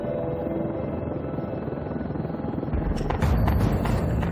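A police search helicopter flies overhead, a steady low rotor drone holding throughout, growing louder and rougher toward the end with no voices.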